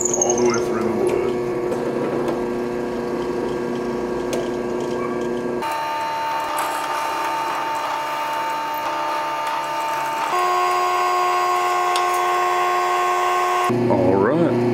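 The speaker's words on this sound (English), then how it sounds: "So now we're just gonna find the first hole, drill it." An electric drill whines steadily, changing pitch in distinct stretches as it bores through wood, loud and close, with someone speaking over it at times.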